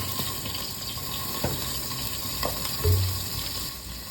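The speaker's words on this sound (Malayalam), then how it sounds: "നമുക്കിതിലേക്ക് ഒരു സ്പൂൺ വെളിച്ചെണ്ണ ഒഴിച്ചു കൊടുക്കാം" Coconut oil heats in a clay pot with a soft, steady sizzle and hiss close by, broken by a few light clinks and scrapes and one brief louder bump.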